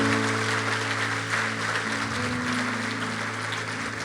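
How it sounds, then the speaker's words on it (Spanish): A church congregation claps steadily at an evening service, a dense, even wash of applause held under sustained keyboard or organ chords for the whole stretch. "Vamos a darle un fuerte aplauso al Señor en esta noche."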